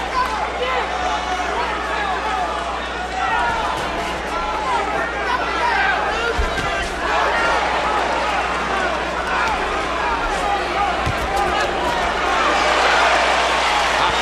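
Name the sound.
boxing crowd reacting to a right hand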